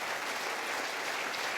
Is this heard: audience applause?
yes